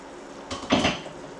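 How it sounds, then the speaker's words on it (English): A metal lid set onto a pot of boiling curry gravy in a home kitchen, giving a short clatter followed by a louder ringing clank, close and alone with no talk. "now I'm going to cover with the lid and let the gravy boil."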